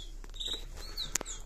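Canaries, including a Siberian cock bird, give a few faint, quick chirps and tweets in a brief indoor moment, with no talking.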